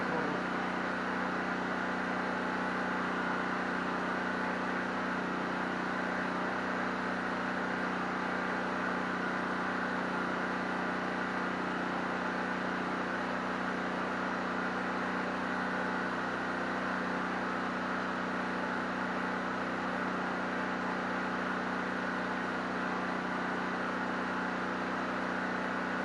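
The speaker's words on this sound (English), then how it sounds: "Pardon the generator noise." A generator drones steadily and evenly throughout, a constant mechanical hum with no breaks, fairly close and moderately loud.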